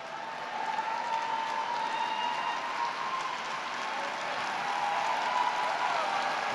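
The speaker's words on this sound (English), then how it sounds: "Please continue your round of applause for all CAMD undergraduate students." Continuous applause from a large audience at a graduation celebration, steady and even throughout, with no single claps standing out.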